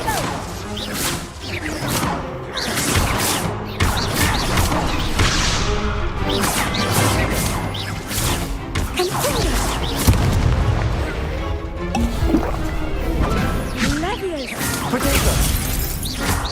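Spells cast in Witch Simulator 2023 go off as loud booms, crashes, whooshes and shattering impacts in quick succession, dense and close, with a voice speaking over parts of it.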